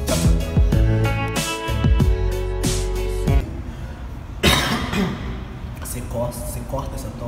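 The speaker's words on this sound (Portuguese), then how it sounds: "Você corta essa tosse" A few harsh coughs break out amid talking voices, loud and close, with a burst of noise partway through.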